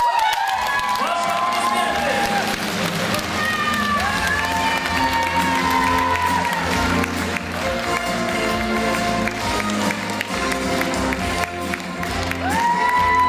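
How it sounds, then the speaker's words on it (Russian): Crowd applause and cheering greet the winner of a beauty pageant final in Abakan, a steady wash of clapping under loud stage music throughout. "Ваши аплодисменты Юлии Ульчугашевой"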